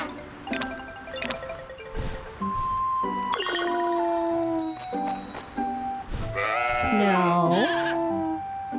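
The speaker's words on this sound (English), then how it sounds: "Sheep just sound like they're saying bro." Cartoonish sheep bleats from the farming video game Story of Seasons: Grand Bazaar, several short wavering cries mixed with bright chime and jingle effects, while someone talks over them.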